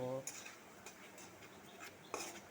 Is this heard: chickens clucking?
no